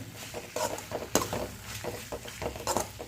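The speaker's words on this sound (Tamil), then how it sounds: "மக்ரோனி சேர்த்துட்டு இது நல்லா ஒரு 5 நிமிஷத்துக்கு பெரட்டி விடலாம்" Macaroni stirred in a pan with a spoon, giving irregular scraping and clattering strokes against the metal over a low sizzle, close and moderately loud.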